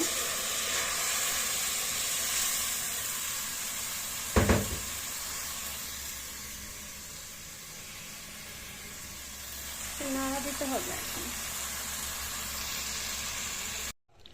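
Soaked rice and lentils frying in a pan for bhuna khichuri give a steady, close hiss of sizzle and steam that runs throughout, with a brief louder clatter partway through and soft scraping near the end.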